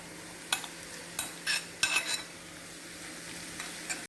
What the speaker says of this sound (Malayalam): ഇനി ഇതിലേക്ക് 3 പച്ചമുളകും കോളിഫ്ലവറും ചേർത്തിളക്കാം